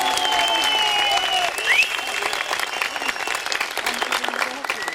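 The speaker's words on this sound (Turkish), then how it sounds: "En büyük alkışlardan bir tanesi Milletvekilimiz Sayın Yücel Bulut'a kuvvetli bir alkış rica ediyoruz." Steady applause from a crowd fills the space at a handover ceremony in Tokat, Turkey, with some whistle-like tones and voices mixed in over the clapping.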